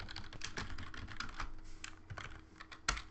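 Rapid keystrokes on a computer keyboard as text is entered for Unity3d code, a dense run of close, crisp clicks with a few sharper accented key hits.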